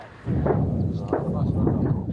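Deep booms and rumbling thuds of gunfire and explosions roll in from a distance in southern Gaza, a few heavier bursts standing out over a low continuous rumble.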